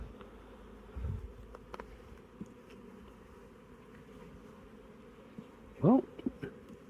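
Honey bees hum in a low, steady drone close by at a nuc hive, with a louder buzzing pass near the end and a few soft knocks.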